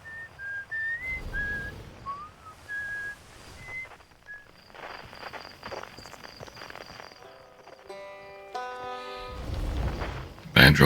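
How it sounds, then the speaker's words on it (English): Melodic whistling sits among the ambient sounds of the Outer Wilds video game, with a short tune of clear notes near the start and music-like tones later. "Whistling."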